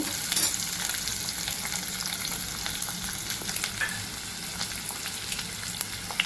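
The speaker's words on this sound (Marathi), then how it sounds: "हे छान परतून घेऊ। मी 1 कांदा चिरून घेतला होता तो," Chopped onion and finely chopped ginger sautéing in a pan for a puffed-rice snack, a steady dense sizzle with light crackles up close and no talk.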